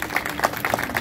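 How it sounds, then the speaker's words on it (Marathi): An audience at an Independence Day function claps, with dense, moderate applause filling the whole brief moment. "जोरात टाळ्या वाजवा"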